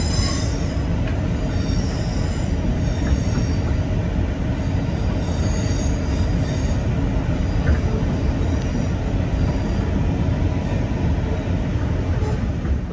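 A train pulling out of Bristol Temple Meads station, a steady loud rumble of wheels on rail with faint squeals, heard close and continuous throughout with no talk.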